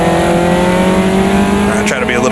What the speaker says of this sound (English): Downshift mid-corner will upset the car a bit, but you can get a nice slide out of it.